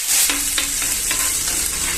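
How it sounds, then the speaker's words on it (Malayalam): Tomato paste ground in a mixer hits hot oil with garlic in a pan, giving a loud, steady sizzle with scraping stirring strokes throughout. "ഇനി ഇതിലേക്ക് നമ്മൾ നേരത്തെ മിക്സിയിൽ അരച്ച് വെച്ച തക്കാളി പേസ്റ്റ് ഒഴിച്ചു കൊടുക്കാം"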